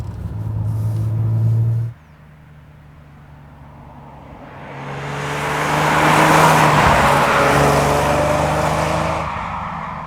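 A Jaguar XJR-6 with a five-speed manual idles steadily with a mechanical, lifter-ticking engine note, then the revs dip and climb into a louder, broader roar before easing back, close up with no talk.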